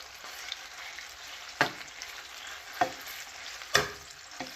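Chicken browning in oil from a jar of sun-dried tomatoes gives a steady low sizzle, punctuated by a few sharp clatters of a utensil against the pan.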